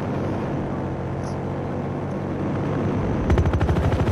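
Rapid burst of automatic gunfire from Battlefield Hardline erupts near the end, a quick rhythmic string of loud shots over a steady, dense bed of in-game noise.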